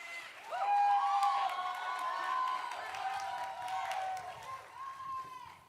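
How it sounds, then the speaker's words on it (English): A commencement crowd at a Quinnipiac University nursing and education ceremony cheers and whoops for a graduate, with a steady wash of clapping and shouts that holds fairly even throughout. "Thanks everyone for cheering me on there"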